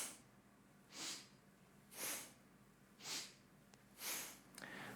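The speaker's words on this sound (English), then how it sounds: "We do what's referred to as a sniff and throw breath, where we sniff the breath in and then we throw it out." Sharp nasal sniffs during kundalini yoga breathing, four quick breaths drawn in at an even rhythm about one second apart, close and soft against quiet room tone.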